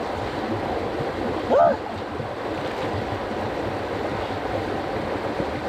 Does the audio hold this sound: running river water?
yes